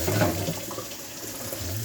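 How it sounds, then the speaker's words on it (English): An apple is rinsed under a running tap, with a steady splash and gush of water that stays close and fairly loud, shifting slightly as the fruit moves through the stream. "I'm just washing my apple."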